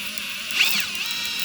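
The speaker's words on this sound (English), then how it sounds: "I'm going to drill a hole basically in the center of this." A power drill bores a hole into a homemade scarecrow, giving a brief, moderately loud whine that swells and fades within about a second over a quiet background.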